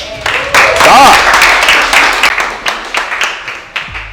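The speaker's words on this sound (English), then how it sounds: "So please, everyone, let's give a round of applause to Brian." Audience applause for a real estate coach named Brian, loud dense clapping that peaks early then thins into scattered claps with some crowd voices and a cheer mixed in.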